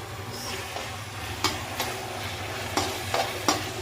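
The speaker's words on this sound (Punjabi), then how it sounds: "ਥੋੜੀ ਦੇਰ ਇਹਨੂੰ ਕੁੱਕ ਕਰਾਂਗੇ ਅਸੀਂ ਤੜਕੇ ਨੂੰ" Tadka tempering for chole with deghi mirch sizzles in a pan, with steady frying hiss and several sharp scraping stirs spaced through the moment, fairly close and without voices.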